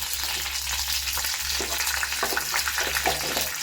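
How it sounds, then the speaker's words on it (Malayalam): Steady, dense crackling sizzle of mustard seeds popping in hot oil, continuous and close throughout with a low background hum. "എണ്ണ ചൂടായപ്പം അതിനകത്തോട്ട് കുറച്ച് കടുകിട്ട് കൊടുക്കാം"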